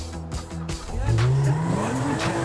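A tuned car in the GTA V video game accelerates hard, its engine whine climbing steadily in pitch while the tires squeal loudly and continuously up close.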